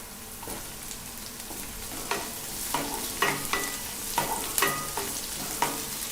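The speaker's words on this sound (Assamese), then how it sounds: "তাৰপিছত এনেকৈ অলপ দেৰি ভাজিম।" Chopped onions and tomatoes frying in hot oil for a bhindi tomato fry, a steady close sizzle with repeated scraping clicks of a spatula stirring the pan, no talking.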